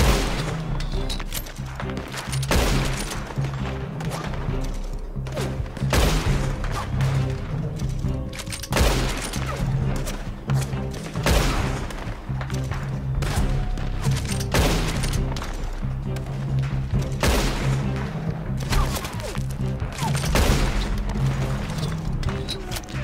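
Rapid bursts of gunfire in the Red Dead Online video game, a dense fusillade of repeated shots and booms over steady game music, loud and close throughout.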